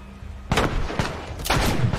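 Three sharp gunshots from a powerful gun in The Last of Us ring out at half-second spacing, loud and close, each with a short reverberant tail over a low background hum.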